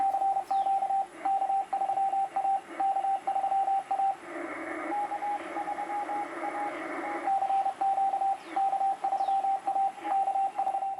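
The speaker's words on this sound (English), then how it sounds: "Here's a ham that's calling CQ, but he didn't bother to listen to his answers." A ham radio operator calls CQ in steady Morse code, with clean, evenly keyed beeps in repeated bursts over faint radio hiss and a brief stretch of noisy interference in the middle.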